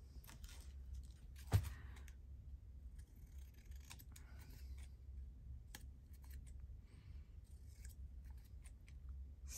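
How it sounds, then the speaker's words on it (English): Scissors snip the corners off paper in a Christmas journal, giving quiet, sparse cuts and clicks with one sharper snap early on, close by over a soft low background hum, with no voices. "Snipping off my corners as I go"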